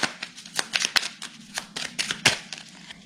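Oracle cards being shuffled by hand to draw a card: a quick series of crisp papery riffles and flicks, close and alone, with no voices.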